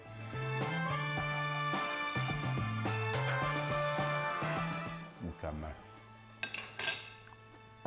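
Utensils clink and scrape against a bowl as kısır with chopped walnuts is mixed, making a busy run of metallic taps and rattles that thins out toward the end, with a voice speaking over parts of it.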